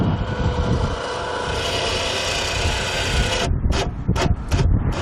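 An etrailer ATV winch with a 1 horsepower, 12 volt DC motor reels its rope back in, giving a steady, close grinding whir for about three and a half seconds that then breaks into several short, uneven mechanical bursts.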